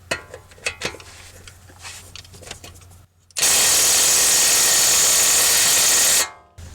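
A Milwaukee M18 Fuel impact wrench torquing a bolt, loud and close, with a sustained roughly three-second burst of rapid hammering that stops abruptly, after some softer handling clicks and knocks.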